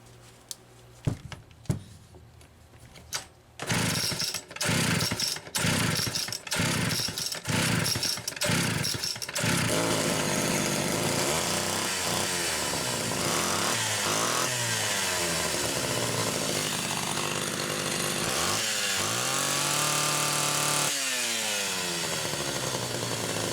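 A Homelite Super XL chainsaw fresh from carburetor repair, tried several times with short bursts, then catches and runs loud and close, revving up and down repeatedly.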